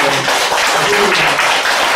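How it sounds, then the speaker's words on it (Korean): Members of a church congregation clap to bless a newly married man, a loud, close burst of applause with a voice briefly audible underneath. "우리 박수로 한번 축복하는"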